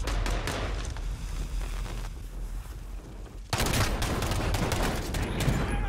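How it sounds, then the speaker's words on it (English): Rapid gunfire in Call of Duty: Modern Warfare, loud bursts of automatic shots that rattle on continuously, dip briefly, then surge back in a dense fusillade. "Yo, who's shooting me in my back?"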